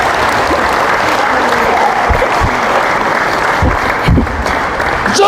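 A church congregation in Tanza, Cavite breaks into loud applause during a sermon, close and dense clapping that fills the room with some low rumbling and knocks underneath.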